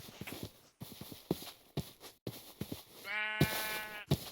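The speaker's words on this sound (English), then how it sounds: "Shut up, sheep." Sheep bleating in a video game, a harmonic bleat near the end after a run of short clip-clop-like thuds and clicks, loud and close with no talk.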